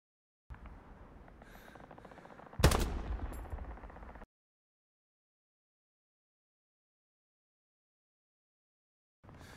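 One loud, sharp SVT-40 rifle shot cracks out in the video game Hell Let Loose over low game ambience, then trails off into silence.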